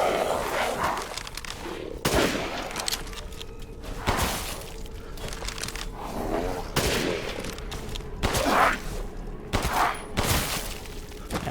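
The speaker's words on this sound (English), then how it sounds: "That wasn't a headshot, so it took a few more pistol bullets, but this seems to be a more powerful pistol" Pistol gunshots in Resident Evil Village, several loud sharp reports spaced across the stretch amid game ambience, with low rumbling background between shots.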